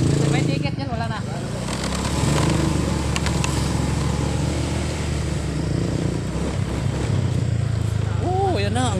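Many motorcycles passing by on the way to Daranak Falls, a steady rumbling engine drone with rising and falling revs throughout, while people talk loudly over the traffic.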